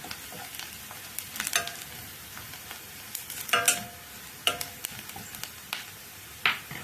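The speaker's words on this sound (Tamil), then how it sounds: "அப்படியே இது வதக்கிடுவோம்" Spices sauté in oil, sizzling steadily at a low level with intermittent crackles and pops, and a few brief sharp clicks of a utensil stirring the pan. No voices.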